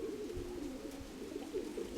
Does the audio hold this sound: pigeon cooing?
yes